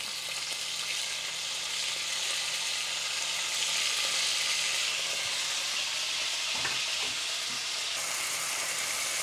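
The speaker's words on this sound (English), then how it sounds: "now we're going to fry off the beef in that lovely pork fat" Beef sizzles in hot pork fat in a pan with a steady, bright hiss, joined partway through by a few clinks and stirring sounds.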